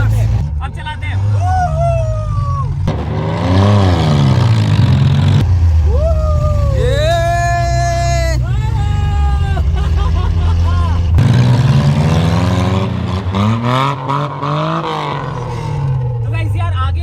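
A car engine running in reverse gear gives a low, steady rumble that sits under louder voices and tonal sounds throughout.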